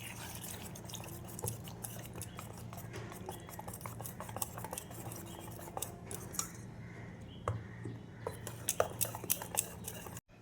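Semolina (suji) idli batter with water is stirred by hand, giving a steady run of close, wet scraping and clinking strokes against the bowl, with faint background noise and no talk.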